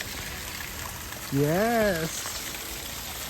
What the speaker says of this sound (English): A miniature waterfall.